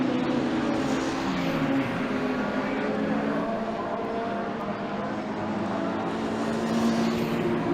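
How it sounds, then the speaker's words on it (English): Caterham race cars at Brands Hatch circuit drive past in a steady engine drone that holds for several seconds, with a commentator talking over it throughout. "More cars come through."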